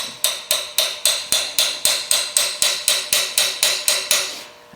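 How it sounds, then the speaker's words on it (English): A hammer lightly taps the idler pulley on a Ford Taurus engine, about fifteen evenly spaced metallic strikes in a quick steady rhythm, each with a short ringing decay, close and clear. "I'm just going to take a hammer and lightly tap it"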